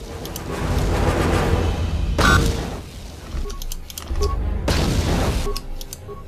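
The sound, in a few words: enemies exploding in Knights of the Old Republic 2 video game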